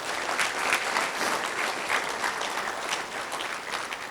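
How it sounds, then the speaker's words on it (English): Business summit audience giving a big round of applause for law enforcement officers, dense, even clapping from a large crowd that sustains at a moderate level throughout without talk. "could we give all of our law enforcement officers across the country a big round of applause?"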